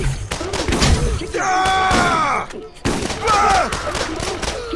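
Gunfire from a bandit killer enemy in Borderlands comes as rapid bursts of shots and thuds, loud and near, with other game sounds mixed in.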